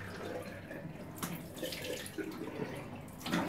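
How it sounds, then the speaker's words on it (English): Running tap water rinsing off after a shave, a steady soft splashing stream close by with a brief louder gush toward the end. "rinse off."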